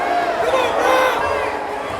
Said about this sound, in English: Crowd definitely not happy.